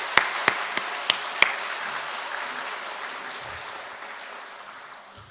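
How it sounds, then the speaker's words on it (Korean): A church congregation at a Sunday morning worship service claps in celebration of newborn twin daughters; a few sharp individual claps lead into a soft wash of applause that gradually fades out. "우리 먼저 한번 뜨거운 축하의 박수 보내겠습니다"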